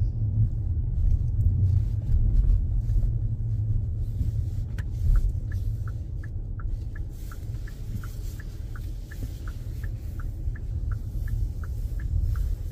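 A car drives toward a road test centre, its steady low engine and road rumble filling the whole stretch, with a faint regular ticking, like a turn signal, running through the middle and later part.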